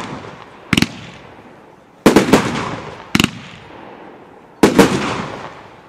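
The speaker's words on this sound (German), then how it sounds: "Unsere 30-Schuss-Batterie, jeweils 3 Schuss parallel." Four separate bursts of sharp crackling bangs from a 30-shot fireworks battery firing three shots at a time, each cluster of quick shots followed by fading rumble and quiet gaps.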